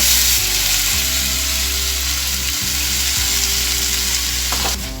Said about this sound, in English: Now I am going to add chopped tomato,